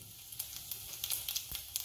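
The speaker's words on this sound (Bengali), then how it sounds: "জিরাটা ফুটছে" Cumin seeds sizzle in hot mustard oil in a pan, a quiet, steady hiss dotted with light crackling pops, close but faint, with no talk.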